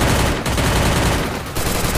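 Loud, nearly continuous gunfire roars as a player shoots at a barrel in the mobile video game Free Fire, a dense unbroken burst with only two brief dips.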